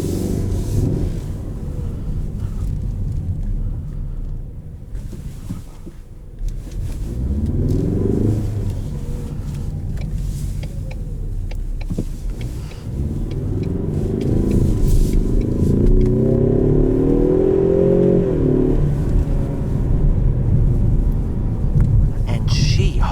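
Cabin view of a 2020 Ford Mustang EcoBoost Premium automatic accelerating, its engine note rising and falling through gear changes as a low rumble, heard under someone talking.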